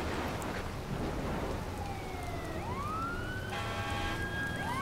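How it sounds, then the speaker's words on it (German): A fire engine siren in the Watch Dogs video game wails up and sweeps in the distance, then grows clearer toward the end over steady rain-like noise and low rumble. "Oh, die Feuerwehr hat schon einen Einsatz."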